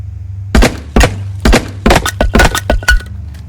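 A series of sharp breaking and cracking impacts in a video game, several hard smashes in quick succession with clinking debris, loud and close over a steady low hum.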